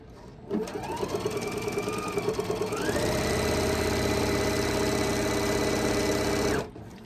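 Sewing machine stitching quilt binding at a quarter inch, starting with a few slow stitches and then running at a steady fast clatter for several seconds before stopping abruptly.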